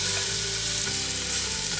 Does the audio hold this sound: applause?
no